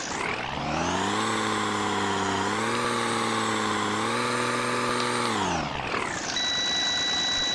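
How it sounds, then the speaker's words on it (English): A 1996 Amtran Ford B800 bus engine in the game Rigs of Rods revs up in a steady rising and falling whine with strong harmonics, held loud for several seconds, then drops off into a high electronic tone. "let's rev the engine"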